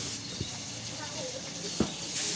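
Small koi fish rubbed with salt and turmeric fry in hot oil, giving a steady close sizzling hiss throughout, broken by a couple of faint pops.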